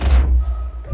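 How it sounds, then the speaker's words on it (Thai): One loud, deep explosive blast from the video game Far Cry 5, with a bright crack that fades quickly into low rumbling, close and forceful. "เฮ้ยระเบิดระเบิดระเบิด"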